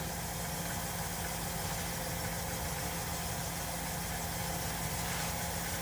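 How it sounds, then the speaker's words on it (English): A wood lathe turned down to low speed while glue finish goes onto a wooden pen, giving a steady, continuous motor hum with a faint rattling vibration, unbroken and without any voices. "we always turn our lathe down when we apply the glue so we don't splatter it"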